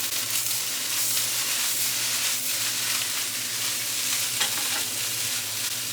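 Fried rice with soy sauce stir-fried in a single hot pan, a loud continuous sizzle with scraping, tossing stirs close up and no talking.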